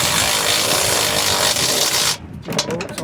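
Bolts on top of a strut being tightened with tools on a 2wd 2010 Ford F150 during an upper control arm install: steady, loud grinding and rubbing that cuts off abruptly, followed by a few short, scraping bursts.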